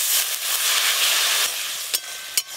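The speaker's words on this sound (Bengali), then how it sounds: "মশলা তো কষে নিলাম" Spices with turmeric, chopped tomato and salt sauté in a pan with a splash of water, giving a steady close sizzle, with two brief sharp clinks near the end and no talking.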